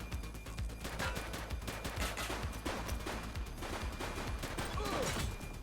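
Gunfire in the police game The Precinct, rapid overlapping shots in a sustained loud fusillade, like several weapons firing at once in a close-range firefight.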